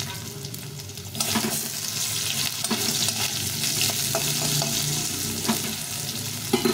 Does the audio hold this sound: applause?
no